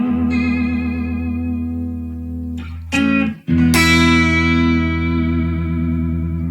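An electric guitar runs through a modulation pedal whose rate is swept by a Walrus Audio Canvas expression pedal, giving sustained chorus-like wavering chords with a short break and a fresh strum midway, loud and close.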